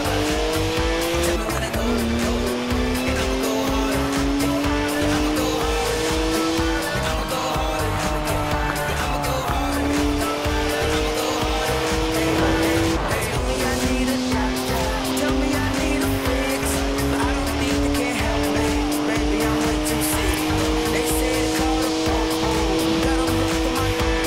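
BMW in Forza Horizon 4 drifting, its engine revving in long rising and falling sweeps while the tyres squeal almost without a break, loud and close for the whole stretch.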